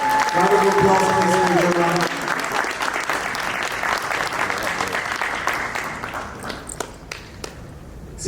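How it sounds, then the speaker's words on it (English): An audience at a startup pitch competition bursts into sustained applause, dense clapping that starts strong over a fading musical chord and continues for several seconds before thinning out. "Round of applause, please."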